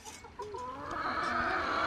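Young backyard rooster clucking and giving a rising, drawn-out call close by, a few short notes at first, then a louder sustained sound over quiet outdoor background.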